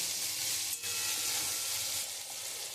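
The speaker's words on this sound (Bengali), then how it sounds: "এবার ভালো করে আমি একটু কষিয়ে নেবো মশলাটা" A spice paste with green chilies fries in a pan, producing a steady soft sizzle with occasional quiet stirring scrapes, fairly faint throughout.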